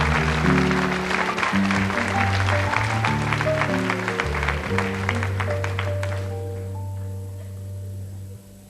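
A studio audience at L'École des fans, the French children's TV show, applauds a young boy with steady clapping mixed with loud music playing, the clapping fading out after about six seconds.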